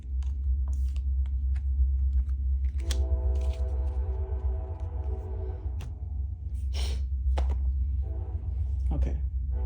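A passing train rumbles low and steady the whole way through, loud and close, with a harmonic horn-like drone swelling partway and a few faint breathy sounds over the top.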